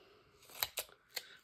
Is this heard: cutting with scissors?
yes